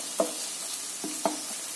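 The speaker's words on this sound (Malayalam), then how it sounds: "ഇതെല്ലാം ഇട്ട് ഇളക്കുന്നു" A spoon scrapes through tomato-onion masala being fried with Kashmiri chilli powder, chilli flakes, coriander powder, garam masala and pepper powder, giving a few short scraping strokes over a steady, close sizzle.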